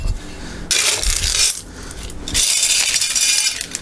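Pebbles and pumice potting media rattle and clatter in two loud bursts while an orchid is being repotted, with a short quieter gap between them and no talk.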